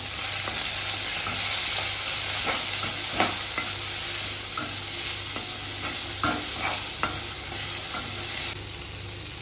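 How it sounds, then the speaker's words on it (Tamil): Mint and coriander leaves being sautéed in a pan for mushroom donne biryani, heard as a dense, constant hiss of sizzling with occasional light spatula scrapes, close and steady, easing slightly at the end, with no talking. "ஒரு கைப்பிடி மல்லி இலை போட்டு ரொம்ப வதக்க வேண்டாம். லேசாக ஒரு பரட்டி விடுங்க."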